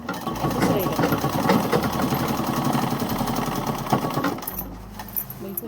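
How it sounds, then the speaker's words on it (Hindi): A sewing machine stitching a coat suit, its motor running in a steady rapid mechanical chatter for most of the stretch before stopping near the end, with a voice talking over it. "ऐसे इसको ऊपर की तरफ रख कर ऐसे सिलाई लगाएंगे"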